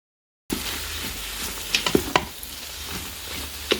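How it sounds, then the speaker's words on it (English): Onions sizzle and fry in a hot Instant Pot on saute, a dense steady hiss that starts abruptly after a brief silence, with occasional soft stirring scrapes close by and no talk. "just keep letting it saute and start the caramelizing and cooking process"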